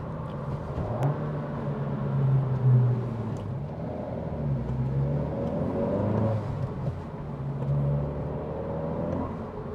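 A 2025 Honda Civic Si with a turbocharged four-cylinder engine drives along, its steady engine drone and road rumble rising and falling gently through gear changes, heard from inside the cabin with no talking.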